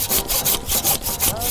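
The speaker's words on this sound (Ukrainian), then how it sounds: "Трохи я попиляв." A hand saw rasps through damp firewood in steady back-and-forth strokes, about seven close, scratchy pulls in quick succession with no talking.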